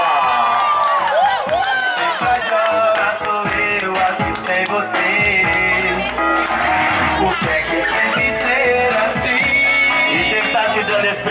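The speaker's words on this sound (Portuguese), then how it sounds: "uma salva de palmas pra ele," A crowd of friends cheers, whoops and shouts loudly at a surprise birthday party for a boyfriend in São Paulo's east zone, with excited voices, including children's, overlapping in a dense, continuous roar.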